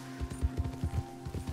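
A horse's hooves clip-clop steadily in Red Dead Redemption 2 Online on PS4 Pro, the rhythmic low thuds quiet and even, with a faint mechanical hum underneath.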